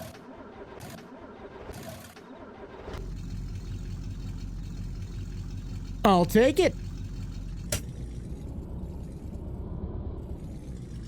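An old Ford truck fitted with a boat motor cranks briefly, then catches and settles into a steady, loud, rough-running idle close by, with a short burst of higher revving midway; a person speaks briefly over the engine.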